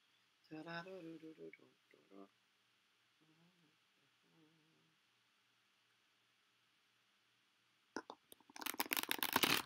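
Playing cards are shuffled close by, a few seconds of dense crisp riffling and clattering that ends the clip, after earlier stretches of quiet talk and faint rustling.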